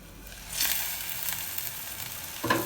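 Plantain shoot pieces sauté in a covered pan, giving a steady soft sizzle that swells after a quiet start, with a brief louder crackle near the end.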